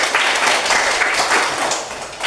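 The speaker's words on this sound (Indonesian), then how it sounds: "tepuk tangan dulu untuk Nesa." A classroom of students claps together for a classmate, a short, dense burst of applause that rises and fades over about two seconds.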